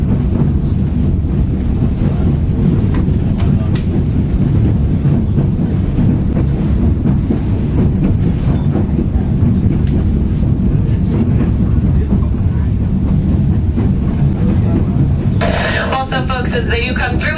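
A tourist train near Skagway, Alaska rumbles steadily along its rails, a loud, constant low roar with clattering throughout, while a guide talks over it.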